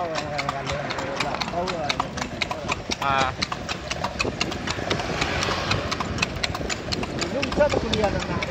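Horse-drawn bendi cart rolling from Pasar Padang toward Taplau, its hooves clip-clopping in a steady, close rhythm while people talk over them, with a faint engine hum from passing traffic.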